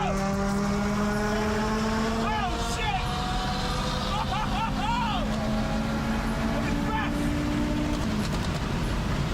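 A tuned 525 bhp Audi TT RS engine hums and climbs in revs inside the cabin, with a person talking over the steady drone.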